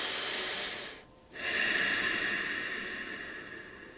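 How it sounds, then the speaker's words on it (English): A deep, slow breath taken during seated meditation, a long airy inhale close to the microphone, a brief pause, then a sustained hissing exhale that gradually softens. "and take a deep breath."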